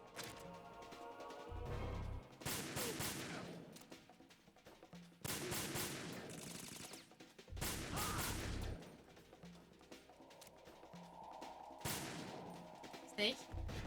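Gunfire from the video game Metal Gear Solid 2: Sons of Liberty, loud bursts of shots and crashes coming in several dense volleys with short gaps between them, mixed with game noise and some voices.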